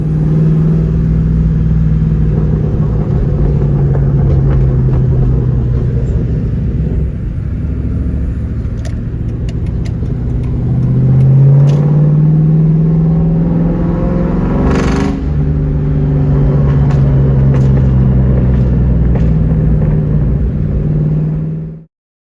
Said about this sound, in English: That's my neighbor's old Roush 427R.